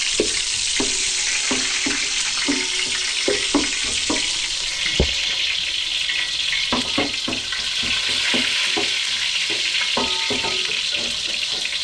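Onions fry in a pan over a loud, steady, close sizzle, with scattered clacks and scrapes from a wooden cooking stick, and no voices.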